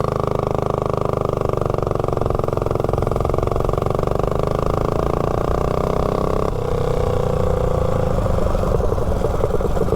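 A mini bike's Tillotson 212 engine fitted with a 285 cam and stage 2 head, idling with a loud, steady, lumpy chug that shifts slightly in pitch near the end, close up with no talking.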